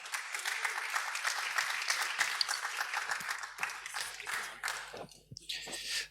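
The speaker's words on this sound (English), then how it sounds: "Give him a round of applause." Audience applause at a live-streamed 2019 conference welcoming a research speaker to the stage, a steady patter of clapping that thins and breaks up toward the end.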